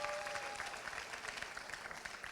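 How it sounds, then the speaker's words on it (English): An audience at a youth sports awards ceremony applauds the athletes, steady dense clapping filling the whole stretch at a fairly even level with no voices over it. "I want to give you guys all another round of applause for all the athletes"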